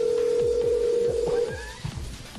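A telephone rings during a Skype call, a steady electronic tone lasting over a second that then fades under other call sounds, with no one talking.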